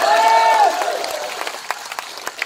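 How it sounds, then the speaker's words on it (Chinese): Crowd applause breaks out at a Cantonese-language Malaysian political speech, a brief tonal voice-like sweep at the start giving way to a dense patter of claps that thins into scattered individual claps. "我讲话如果有道理就唔该拍手啦"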